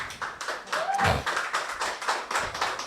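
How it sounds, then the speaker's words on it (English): Audience applause for presenters at a seedling and seed event, a room of scattered hand claps and taps of moderate loudness, uneven and sparse rather than a full ovation. "I want everyone to give a round of applause to our presenters."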